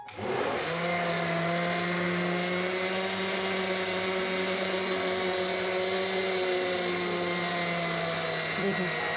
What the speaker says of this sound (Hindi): तो मैं आपको इस ब्लेंडर के ज़रिए ना वही बता दूँ कि इसकी आवाज़ कैसे चेंज होगी